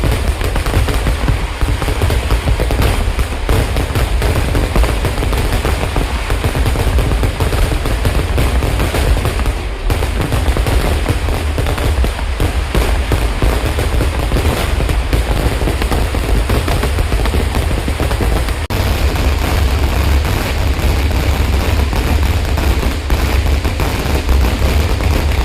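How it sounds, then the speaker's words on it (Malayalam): Relentless barrage of fireworks at the Nemmara Vallangi Vela festival, dense crackling bursts and booms merging into a continuous, very loud roar that never lets up. "കുറച്ച് വെടിക്കെട്ട് പൊട്ടുന്നത്"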